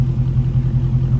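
Idle exhaust of a lowered 2019 Dodge Challenger SRT 392 Scat Pack Widebody with a 6-speed manual: a loud, steady, low rumble with an even, throbbing pulse and no talk.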